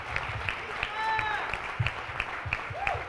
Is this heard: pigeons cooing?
no